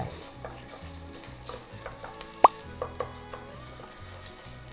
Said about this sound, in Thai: ต้องผัดให้สุกนะ